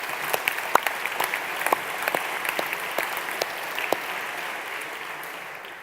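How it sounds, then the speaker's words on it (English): An audience applauds to welcome a guest onto a stage, a dense, moderately loud burst of many hands clapping with sharp individual claps on top, gradually thinning toward the end. "would you put your hands together to welcome our guest"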